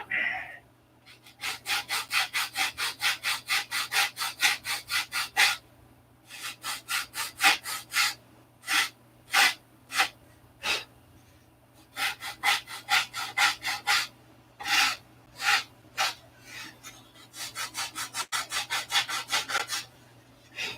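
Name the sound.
sanding wooden bottom blocks by hand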